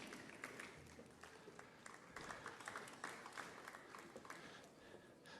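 A graduation ceremony audience applauds, a steady wash of many hands clapping that carries on for several seconds at moderate level in a large room.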